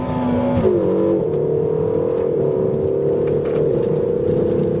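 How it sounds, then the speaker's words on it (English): A 2016 Ferrari California T engine pulls hard in sport mode, loud and close from inside the car, its tone rising and dropping sharply at quick paddle-shift gear changes, with no talk. "Elect to shift it yourself in sport mode, and it clicks off gear changes before the paddle shifters even have the opportunity to return to their original position."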